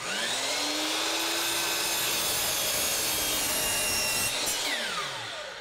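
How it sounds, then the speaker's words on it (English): Power saw cutting through engineered hardwood flooring and plywood, a loud continuous close-up whining grind with rasping texture, pitch shifting slightly as the blade loads and then winds down at the end. "It takes a lot of energy to cut wood like that because you're cutting through the plywood at the same time"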